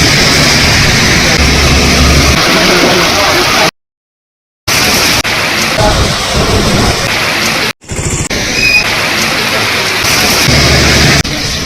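Sudden rain shower with thunder: dense continuous downpour hiss with low rumbling thunder, briefly cut by two short gaps of silence.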